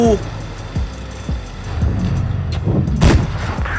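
Tank cannon shots from the FV4202 in a tank video game, several sharp booms spread through the stretch with rumbling engine noise underneath, while someone speaks over the gameplay.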